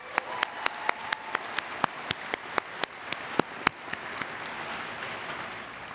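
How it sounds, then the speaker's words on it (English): Sparse, isolated hand claps ring out at a university commencement for the faculty and staff, a dozen or so sharp distinct claps at an uneven pace over a faint background, thinning out toward the end. "let's also give a round of applause to both the faculty and the staff who I'm here representing today"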